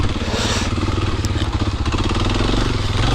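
A Suzuki DR650 dual-sport motorcycle engine chugs steadily on a trail at low revs with the clutch slipping, a loud close throbbing rumble with a pulsing beat, along with faint clatter.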